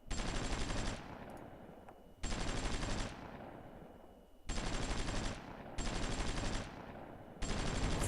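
Gunfire in the strategy video game Supreme Ruler Ultimate: loud, dense bursts of rapid shots, each lasting about a second, repeating at steady intervals over a low background rumble.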